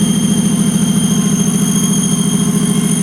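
A rebuilt Joyner engine runs at a steady idle, loud and close, with an even rapid pulsing throb and a faint high whine over it, no voices.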